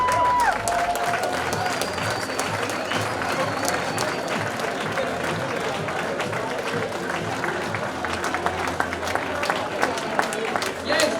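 Sustained applause fills a hall at an awards ceremony for a 2019 competition, dense steady clapping from a large crowd with a few louder claps near the end.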